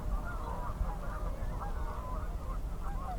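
Geese honk repeatedly and fairly loudly in a steady chorus over snowy fields beside a river valley, with no talking.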